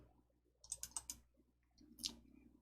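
Computer mouse being double-clicked, two quick pairs of sharp, close, faint clicks separated by a short pause, otherwise quiet.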